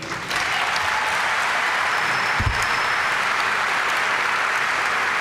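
Sustained applause from a large audience at a college commencement ceremony, a steady dense roar of clapping filling the hall from start to finish without pause.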